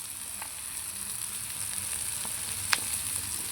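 Onions fry in a pan for an egg stir-fry with a soft, steady sizzle. A few quiet scrapes come from stirring, and one sharper clink stands out near the end. The level stays low and no one speaks.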